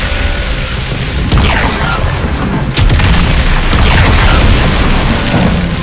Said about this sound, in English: Check out this explosion as I take out these laser turrets